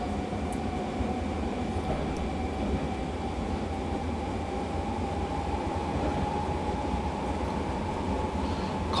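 A BR420 electric multiple unit running on the Konstanz–Villingen line in Train Simulator 2018 gives a steady, continuous rumble of wheels and motors, with a faint tonal whine held throughout at even loudness.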